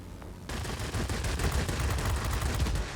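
The S-199 Sakeen's aircraft guns in World of Warplanes open up abruptly after a brief quiet and keep hammering in a dense, rapid, continuous burst of close automatic fire for several seconds.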